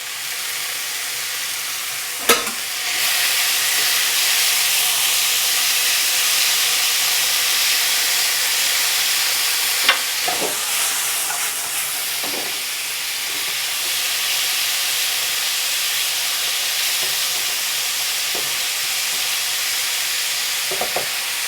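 Drained sauce hitting a hot wok for an Asian-style pork stir fry, a steady loud sizzle and steamy hiss with a few sharp clanks of utensils, no talking.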